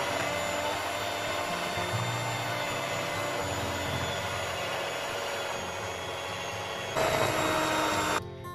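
An electric stand mixer runs at its top speed, setting 5, kneading apple-cinnamon cake dough, with a steady, loud whirring drone that shifts in pitch and surges briefly near the end.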